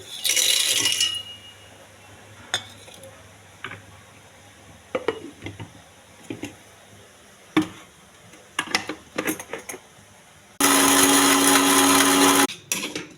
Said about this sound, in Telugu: ఇవన్నీ మిక్సీ వేసుకోవాలండి.